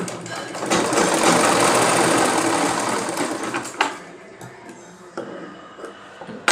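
A sewing machine stitches children's shorts in a loud, fast, continuous whir for about three seconds, then slows into fainter intermittent clicks and taps.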